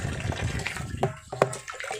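Water pouring from two hoses at a plant nursery, a splashing, gurgling flow with irregular bursts and spatters, close by.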